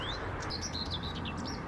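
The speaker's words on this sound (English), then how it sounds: "Sedge warbler's just flown into this tree." A sedge warbler sings from inside a tree in open countryside, giving thin, high chirping phrases that come through faintly over a steady rushing wind or background hiss.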